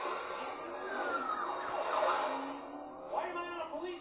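An emergency siren wails with a rising and falling pitch, fairly loud and steady through the whole stretch, while a faint voice murmurs underneath.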